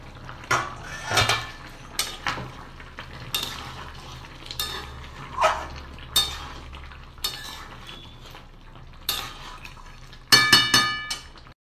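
A lid comes off a cooking pot of chicken curry amid a series of metallic clinks, knocks and stirring scrapes, each crisp and close, with a louder clattering burst near the end and no talking.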